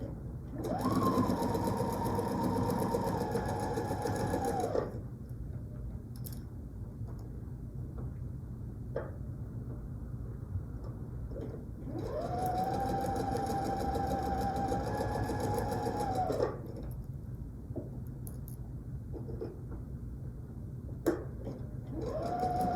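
A sewing machine stitches fabric in two separate runs of several seconds each, a steady whirring hum with a brief pause between them and quiet handling noises in the gaps.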